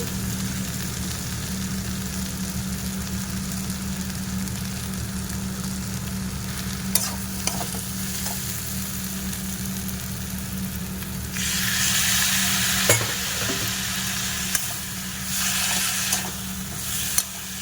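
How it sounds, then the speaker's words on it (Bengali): A pan of sautéing spices with turmeric, salt and a splash of water keeps up a low continuous sizzle and hum, with occasional stirring clinks and a louder hissing burst later in the clip; no one speaks. "এবার মধ্যে পরিমাণ মতো হলুদ আর নুনটা দিয়ে দিচ্ছি দিয়ে একটু অল্প জল দিয়ে কষিয়ে নেব"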